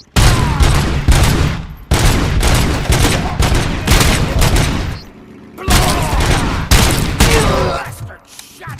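Heavy automatic gunfire from RoboCop: Rogue City comes in long, loud, dense bursts separated by short pauses, with booming impacts mixed into the barrage.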